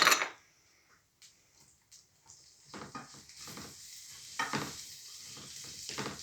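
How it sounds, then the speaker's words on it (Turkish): Sujuk sausage and peppers fry in a hot pan as pizza filling for crepes, with faint, soft sizzling and a few scraping stirs that build slightly toward the end. "iki krep arasında pizza malzemelerini biraz pişireceğiz. Sucuklarımızı ilave ettik. Biberlerimizi ilave ettik."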